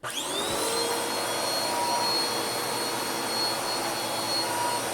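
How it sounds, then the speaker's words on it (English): A Bissell 2486 CleanView bagless upright vacuum cleaner switching on and spinning up quickly, then holding a loud, steady whining roar close by with no talking. "To turn on the vacuum, it's this little thing over here."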